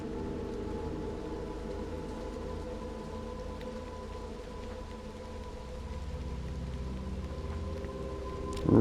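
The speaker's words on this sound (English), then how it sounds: "And just the heavy rain, it's oh, they've done so well with this." Heavy rain falls in the video game Little Nightmares 2 as a steady, even hiss, laid over low droning tones and ending in a brief louder burst.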